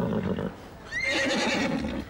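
A horse whinnies at a riding stable, a rising and falling neigh heard fairly close and loud, following a low rumble of stable noise.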